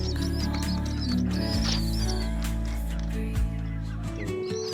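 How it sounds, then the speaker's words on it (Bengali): Young pure-bred Giribaz pigeons, a long-flying breed kept in a box at home, give soft low cooing calls close by over a steady droning background. "3-4 ঘন্টা উড়ার পায়রা এগুলো।"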